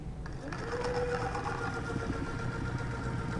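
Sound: chocolate fountain motor running

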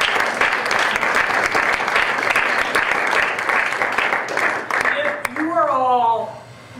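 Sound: audience applause for a speaker

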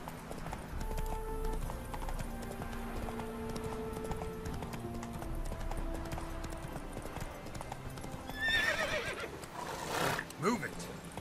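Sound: horse neighing and galloping in video game The Witcher 3

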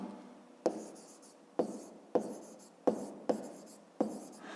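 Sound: writing by hand

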